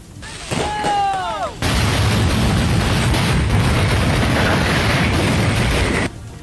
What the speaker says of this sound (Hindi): पटाखे ऐसे धड़ाधड़ फटे